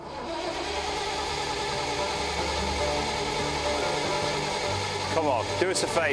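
An old fire truck engine runs with a steady, loud mid-range drone and rumble throughout, close up, while people talk over it.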